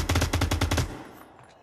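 Rapid automatic gunfire from the Onward VR game on Oculus Quest, a fast burst of about a dozen shots lasting under a second, then fading into a reverberant tail.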